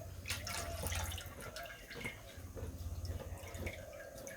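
Water drained off in a home kitchen, soft splashing and dripping with a few trickles and small clinks, faint and close, with low voices murmuring in the background.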